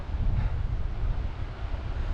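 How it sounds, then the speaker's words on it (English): Lake waves wash in under heavy gusting wind, a continuous loud roar of surf and rumbling air close to the microphone with no voices. "the waves on the lake,"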